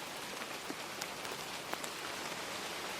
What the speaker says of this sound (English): The rain kept to its rhythm, falling soft on brick and leaf